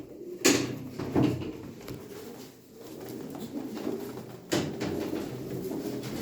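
Racing pigeons coo softly in a loft, low murmuring calls running steadily under a few sharp knocks and clatters nearby.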